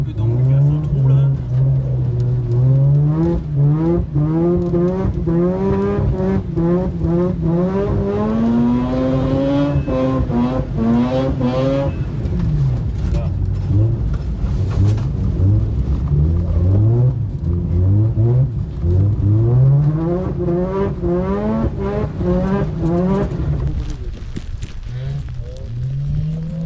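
A Mazda RX8 drives and slides on ice, its engine note rising and falling steadily and loud throughout, with revving and tire noise, while people talk over it.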